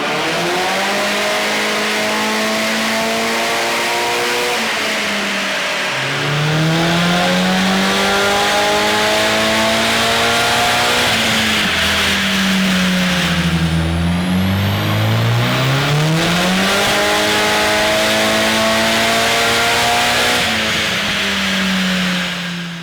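Turbocharged car with a GT ball bearing turbo and no blow-off valve revs hard on a dyno, its loud engine tone sweeping up and down through repeated pulls with no speech.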